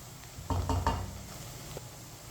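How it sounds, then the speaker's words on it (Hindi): Onions frying over medium heat until lightly browned, a soft steady sizzle with a brief burst of stirring and pan scraping near the start, then quieter low hiss; baingan dish being cooked. "मीडियम आंच पर इसे हल्का सा ब्राउन करेंगे। प्याज को जलने नहीं देना, हल्का सा ब्राउन करना है।"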